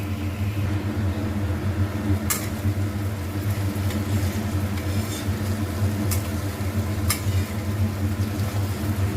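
Young jackfruit curry with spices sautés in oil over a low flame, giving a steady, soft sizzle over a low hum, with a few faint clicks.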